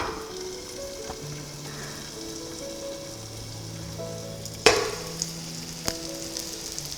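An egg sizzles and crackles steadily in a covered pan, with a couple of sharp clacks partway through and faint background tones.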